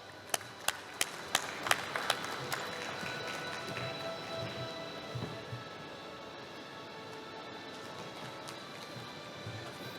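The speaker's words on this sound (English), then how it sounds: "Please give him a warm round of applause." Audience applause welcoming a speaker at a hydrogen conference country day, opening with a few sharp, distinct claps and then settling into a softer, sustained patter of clapping from the room.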